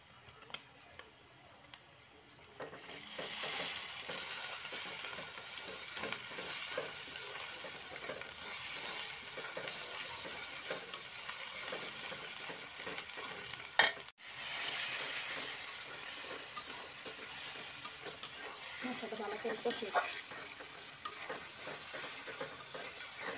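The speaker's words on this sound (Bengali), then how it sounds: "মশলাটা ভালো করে কষে কষায় দেবে" Ground spice paste with chilli and salt fries in a pan for potato curry, a steady sizzle that starts after a few quiet seconds and carries on under intermittent scraping of a spoon stirring it, with one sharp knock midway.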